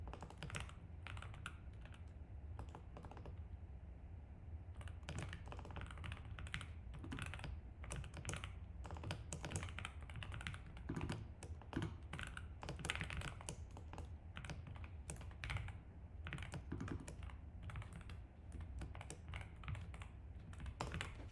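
Fast, steady typing on a computer keyboard goes on for about twenty seconds, dense clacking keystrokes close to the microphone at a quiet level, with no talking.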